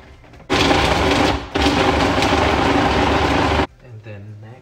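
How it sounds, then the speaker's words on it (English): Food processor blending garlic and onion for a vegan soup, a loud steady motor whir that starts abruptly, pauses briefly, runs again for a few seconds and cuts off, followed by a faint voice. "So first, let's blend garlic, onion."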